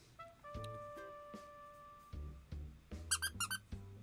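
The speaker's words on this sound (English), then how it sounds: "It's a squeaky strawberry." A crocheted strawberry toy squeaks several times, quiet close squeezes, first spaced apart and then a quick run of short squeaks near the end, with no talk.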